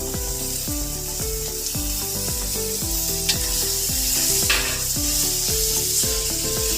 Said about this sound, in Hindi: अब इन आलूओं को हमने स्पाइसेस में अच्छे से मिक्स कर दिया है